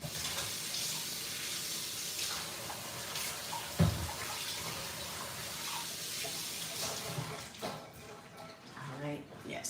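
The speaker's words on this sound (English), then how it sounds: "I'm gonna wash my hands." A sink tap runs steadily while hands are washed beneath it, with a continuous close splashing stream and a voice talking over it.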